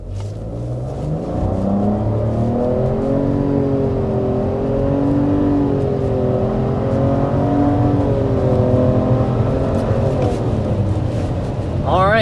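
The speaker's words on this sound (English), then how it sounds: "So that was giving it the beans all the way up to 60 miles an hour." A 2024 Nissan Rogue Platinum pulls hard up to 60 mph, its engine note a steady droning rise with gradually climbing pitch heard from inside the cabin, continuous and moderately loud.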